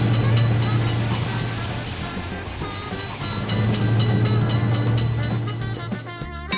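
In a railway crossing video game, a train rolls past with a continuous loud rumble, low droning hum and repeated wheel clatter, swelling slightly midway before thinning out at the close.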